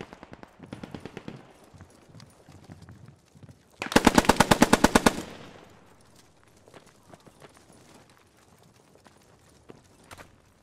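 Machine gun fire in the video game Post Scriptum, a rapid burst of about a dozen loud, close shots lasting just over a second, set against quieter scattered background clatter and distant firing.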